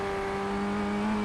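An F1600 race car in the iRacing sim at Oulton Park International Circuit holds a steady engine note that shifts slightly near the end as it brakes and downshifts, loud and continuous with no voice.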